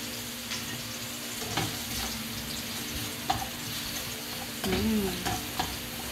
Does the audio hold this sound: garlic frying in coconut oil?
yes